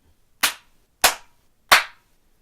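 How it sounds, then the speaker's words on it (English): Three sharp, separate hand claps, evenly spaced about half a second apart, close and crisp against near silence, each ending in a quick decay. "Did a few claps there so that I can sync up my sound better"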